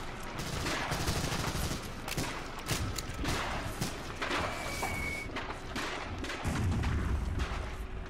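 MG42 machine gun fire in Medal of Honor: Allied Assault, with dense, continuous bursts of gunfire and heavy booming battle noise filling the whole stretch, loud and close with no pauses.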